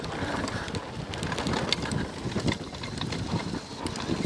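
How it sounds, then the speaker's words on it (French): Strong gusting wind roars across the microphone while mountain biking at the Super Besse bike park in France, a loud, continuous buffeting rush with rattling bike noise underneath and no clear talk. "Le vent, ça te décale."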